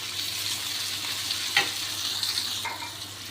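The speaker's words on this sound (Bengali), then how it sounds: "তো মশলা ভালোভাবে কষিয়ে নিতে হবে।" Spices for a vegetarian curry stir-fry in a hot pan, a steady close sizzle broken by a couple of brief scraping stirs.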